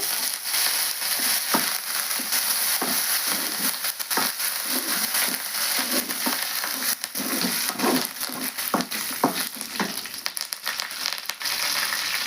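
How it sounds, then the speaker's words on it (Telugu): Curry leaves dropped into hot oil fry with a loud, continuous sizzle, sharp pops and crackles bursting irregularly over a dense hiss the whole time. "అలాగే ఒక 2 రెబ్బలండి కరివేపాకు వేస్తాను."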